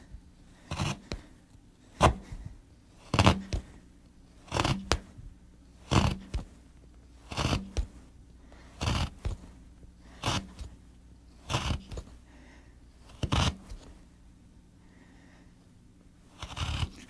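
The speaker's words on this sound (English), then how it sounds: "the chisel drops into that lovely at the end of the tail as we cut it out" A hand chisel is struck repeatedly while cutting out a dovetail tail in wood, producing about a dozen sharp, close percussive chops at a regular rhythm, each trailing off into a brief scrape and separated by quiet pauses.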